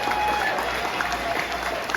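An audience claps for a band of musicians at a birthday show, with steady dense applause and crowd noise running throughout, close and fairly loud.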